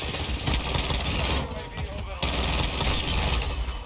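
A pistol fires in rapid bursts in the Warzone video game, a dense crackle of shots in two volleys with a short pause between, while a person talks over the gunfire.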